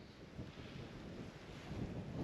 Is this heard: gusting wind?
yes